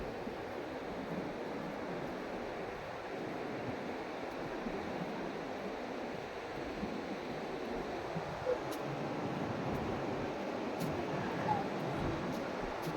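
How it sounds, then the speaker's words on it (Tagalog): Strong Pacific Ocean waves rolling on a shallow shore, a steady broadband wash of surf with wind across the microphone, moderately faint and continuous, with no clear talking over it. "Malakas ang alon."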